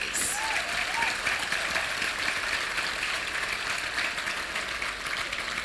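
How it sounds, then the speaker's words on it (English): A banquet audience at a regional chamber awards night applauds a group of nominees, dense continuous clapping filling the room evenly from start to finish. "Can we please give a round of applause to this group of nominees?"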